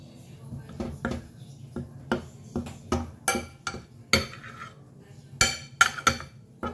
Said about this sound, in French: je vais mettre tout ça dans la farine